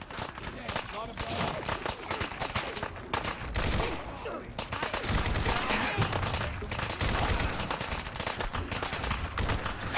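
Gunfire from Fallout 4 fills the scene as dense, continuous bursts of overlapping shots rattle close and loud, with scattered voice-like noise mixed into the barrage.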